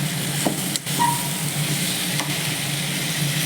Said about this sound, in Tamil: நல்லா இப்படி கலந்து விட்டுருலாம்.